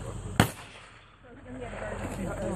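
A shotgun fires during outdoor trap shooting: one sharp, loud blast near the start, followed by wind noise and a faint voice in the background.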